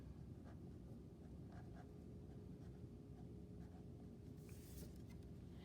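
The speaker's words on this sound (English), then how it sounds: "you're going to write the word inertia" A pen or pencil scratching a word onto paper, steady soft scribbling strokes close by in a quiet room, with a brief rustle near the end.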